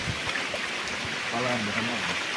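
A river stream flows with a steady broadband rush close by, and people talk briefly over the water.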